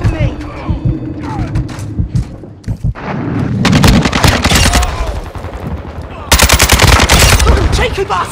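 Loud, close gunfire rings out in Call of Duty: Modern Warfare 2 gameplay as rapid automatic bursts and heavy thuds crackle in dense volleys, briefly easing before another sustained barrage.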